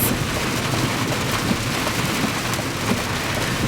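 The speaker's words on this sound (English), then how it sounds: "because it's raining" Rain drumming on the roof and windows of a car during a storm, heard from inside the cabin as a steady, dense, close patter with no speech.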